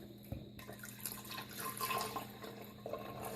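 Cool tap water pours into a container holding two hollow, porcelain-like dinosaur egg toys, a steady close splashing stream that starts abruptly and runs on with shifting gurgles.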